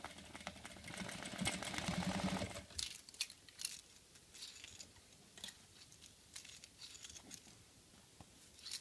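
A sewing machine stitches a flower stem in a dense, fast run of needle strokes at first, then thins to scattered faint taps and clicks, heard close and quiet.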